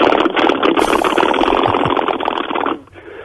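A Plymouth Barracuda's big-displacement V8 engine starts and runs in a rough, rumbling burst for a few seconds, heard through a narrow broadcast phone line, then cuts off abruptly.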